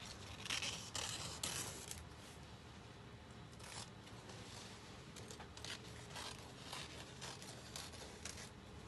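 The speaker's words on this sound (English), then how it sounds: "Cut it with care because sometimes the fabric tends to rip incorrectly" Scissors cut through dress fabric for a six-piece flared gown, making steady close scraping and snipping with a few louder crisp cuts near the start, no talking.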